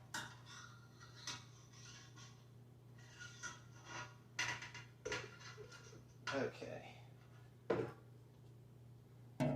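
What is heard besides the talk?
stirring malt extract into a hot brewing pot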